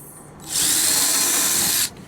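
A power drill whirs loudly for just over a second while drilling a pilot hole, spinning up quickly and cutting off abruptly, close at hand.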